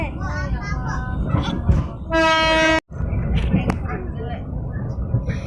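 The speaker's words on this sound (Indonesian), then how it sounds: "saya lagi di kereta." Rumbling passenger train noise under nearby chatter aboard, with a short horn blast cutting through about halfway, then the rolling rumble continues.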